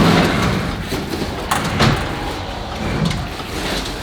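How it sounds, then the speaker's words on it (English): Heavy metal tool drawers on a Ford F350 service truck sliding and thudding with a few sharp clunks over steady outdoor background noise. "These drawers slide out to about 3 or 4 feet"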